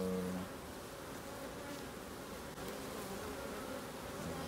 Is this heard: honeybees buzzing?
yes